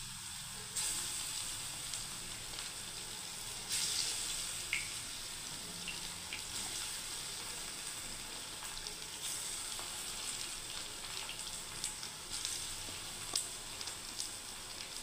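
Moong dal kofta balls fry in hot oil with a soft, steady sizzle and scattered faint crackles and pops throughout.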